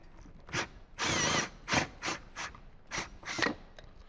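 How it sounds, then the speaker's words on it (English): A drill opens an existing hole out to 3/4 inch for speaker wire on a Harley-Davidson, heard as a series of short rasping bursts, one longer grinding pass followed by several brief pulses, fairly close and moderate in level. "open it up to 3/4 of an inch so we can pass our speaker wire through. So pretty simple, just drill it out."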